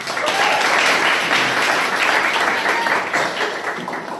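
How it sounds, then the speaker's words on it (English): A Toastmasters club meeting audience applauds steadily for several seconds, a dense, loud wash of clapping hands with no pauses. "Can we have a round of applause for Toastmasters?"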